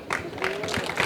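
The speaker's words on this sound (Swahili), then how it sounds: "mjipigie wenyewe makofi" Applause from a crowd welcoming the Dar City team at Julius Nyerere airport: a dense run of clapping that swells and dips over about a second, fairly close, with no clear talk on top.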